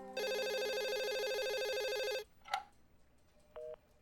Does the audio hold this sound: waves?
no